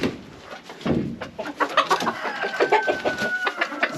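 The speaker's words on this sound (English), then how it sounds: "The guineas have been screaming this whole time I was in here, or squawking" Loud, harsh squawking from several guinea fowl close by, rapid repeated cries overlapping in a noisy chorus, with shrill calls rising above.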